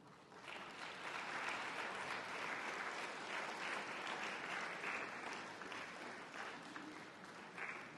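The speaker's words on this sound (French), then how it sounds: "je vais vous demander tout simplement de faire quelques applaudissements à 60 décibels." An audience at an opening-night sound event claps softly together, a steady, even wash of moderate applause lasting the whole stretch without voices over it.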